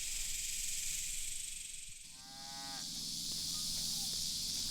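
Mashona cattle on a ranch give one long, drawn-out moo midway through, rising and wavering, set against a steady bed of insect hiss and outdoor noise.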